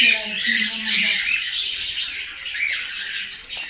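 Java sparrows and other small birds chirp and tweet in a busy, continuous chatter, with a few bright calls standing out near the microphone.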